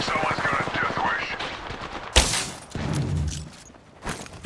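Gunfire aimed at the player in Apex Legends cracks out in sharp automatic bursts, with one loud close shot standing out amid busy in-game sounds and a brief voice.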